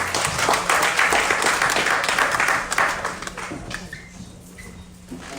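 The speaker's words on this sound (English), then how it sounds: "Give him a hand clap as he comes." An audience claps together at a church gathering, loud and dense at first, then thinning out and fading over the last seconds.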